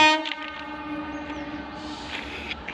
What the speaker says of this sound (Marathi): कारण रेल्वेचा आवाज आहे